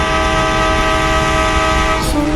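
A train stands at a railway station with a loud, steady mechanical drone, rich with a sustained tonal hum, and a brief rising horn-like note near the end, without speech.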